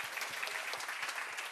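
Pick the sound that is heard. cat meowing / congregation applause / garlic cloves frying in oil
congregation applause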